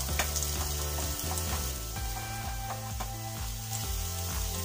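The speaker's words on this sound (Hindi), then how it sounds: "इसको 1 से 2 मिनट के लिए अच्छे से फ्राई करेंगे" Chopped ginger frying in hot oil for an okra masala, a steady close sizzle with continuous crackle and some stirring, heard alone with no talk.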